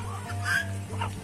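Plump hens in a farmyard beside a guava orchard, clucking softly in short repeated bursts close by over a low steady hum.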